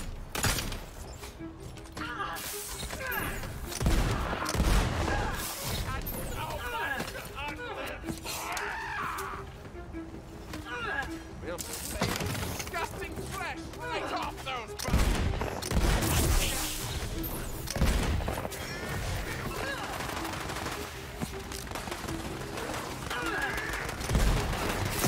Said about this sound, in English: Here, I'll shoot at you.